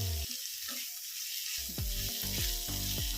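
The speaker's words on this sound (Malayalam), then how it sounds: "ഇനി ഇത് നന്നായിട്ട് ഇതുപോലെ തന്നെ ഇളക്കി കൊടുക്കുക" Fish roe frying in a pan while being stirred: steady close sizzle throughout, with several scraping stirs and clunks of the spoon against the pan in the second half. No voices.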